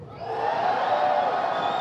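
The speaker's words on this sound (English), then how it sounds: "now cheer if you want to go in the door" Crowd at BlizzCon, a gaming convention, cheers and whoops loudly, a sustained roar of many voices rising quickly and holding steady throughout.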